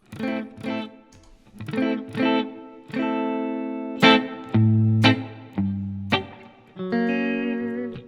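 An electric guitar plays a sequence of picked notes and sustained chords, up close, each ringing out into a smooth, shimmering plate reverb tail from a Strymon Flint pedal.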